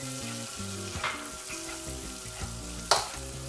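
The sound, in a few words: garlic and onion sautéing in a pan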